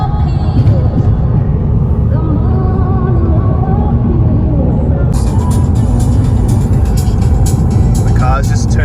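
An Audi TT drives on a road during a trip to Melbourne, its steady engine and tyre rumble loud and continuous, with voices talking over it and a brief brighter hiss near the end.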